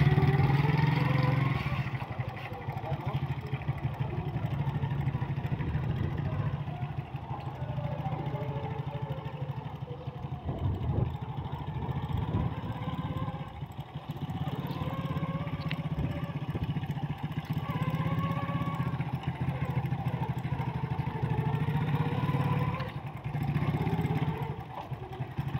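A motorcycle engine runs steadily during a riding lesson, a continuous close mid-pitched drone that rises and dips gently with throttle and gear changes, with no talk over it.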